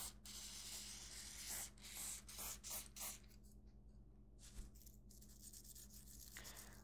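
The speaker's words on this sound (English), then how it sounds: "so you just need to give this a light brushing" A gun's bolt housing gets a light brushing during cleaning, with soft close bristly strokes that come in short repeated passes before a quieter stretch.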